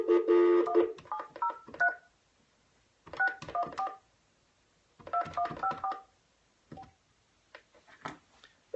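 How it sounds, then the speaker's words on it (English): Telephone number dialed on a keypad, three quick bursts of tones with short pauses between, then a couple of isolated beeps, close and fairly quiet. "Let me make another dial now here"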